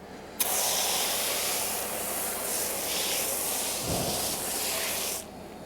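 Nanolex wheel cleaner with iron remover, professional grade mixed 1 to 5 and ready to use, hisses from a sprayer onto a car wheel in one steady, close burst lasting about five seconds before stopping abruptly.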